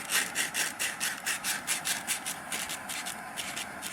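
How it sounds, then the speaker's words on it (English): Folded sandpaper rubbed in circles around a wooden dowel while shaping a flute, giving steady rhythmic scratchy strokes, roughly four per second, close and moderately loud with no talking. "you can take a piece of sandpaper, fold it in half so that you have nice end on it there, and just kind of go around in circles"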